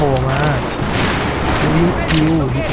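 Battlefield 4 multiplayer gameplay with loud rumbling explosions and bursts of gunfire filling the mix, while players talk excitedly over the battle.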